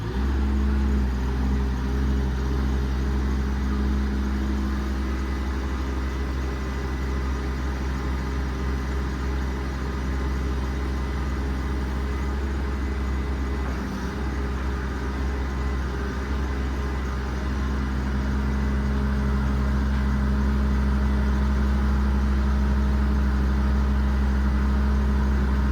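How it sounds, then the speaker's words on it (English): A diesel-driven EnPak power unit mounted on a 2018 Ram 5500 4x4 work truck with a Cummins diesel idles steadily with a low, even drone, running alone without voices. "the EnPak idles down when not in use"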